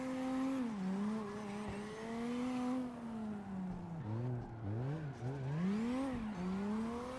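A BMW E36 drifting in CarX Drift Racing Online, with a steady, loud engine drone rising and dipping in pitch as the revs swing, plus tire squeal throughout the sustained slide.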